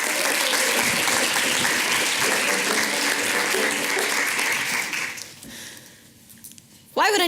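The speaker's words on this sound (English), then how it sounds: "A rapturous round of applause, please." A theatre audience at a science communication competition final gives loud, dense applause to welcome a speaker, fading after about five seconds, after which a voice begins speaking.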